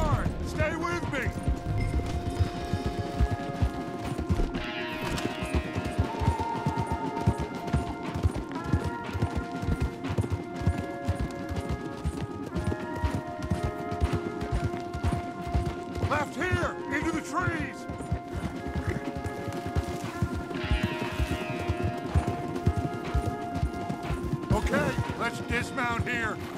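In the video game Red Dead Redemption 2, horses' hooves clip-clop in a fast, steady rhythm, with creaking tack and music-like tones, while voices talk now and then over the riding.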